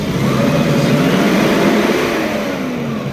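A machine's engine runs steadily just after its throttle body was replaced, where it had been idling rough, surging up and down and stalling; a loud, continuous low drone holds without pause and eases off slightly toward the end.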